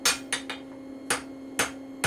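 A hammer strikes hot metal on an anvil while forging a point, six sharp ringing blows in an uneven rhythm, close and loud, with a steady hum behind and no talking.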